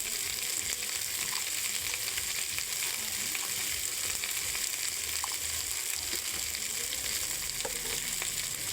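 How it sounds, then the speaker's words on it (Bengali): Elephant apple (chalta) sautéing with turmeric and salt, giving a steady, dense sizzle and fry hiss that runs unbroken and fairly loud, with a few faint stirring clicks and no talk. "চালতেটা হলুদ আর লবণ দিয়ে কিছুক্ষণ কষিয়ে নেব।"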